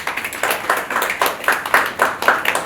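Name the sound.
audience applause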